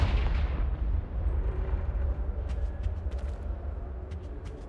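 Confringo fire spell exploding in Hogwarts Legacy: a loud blast at the start that rolls into a long, low rumbling decay, with faint crackles and pops scattered through the tail.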